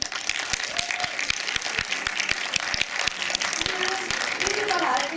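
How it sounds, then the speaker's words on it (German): A live event crowd at a Walking Dead Season 8 night claps in response to a poll, with a loose patter of individual sharp claps and some voices mixed in. "Bitte mal Applaus."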